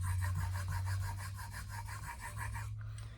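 A woodworking blade is honed on a sharpening stone in steady back-and-forth rubbing strokes, about a dozen even rasping passes close up, alone with no voice, ending in a brief pause.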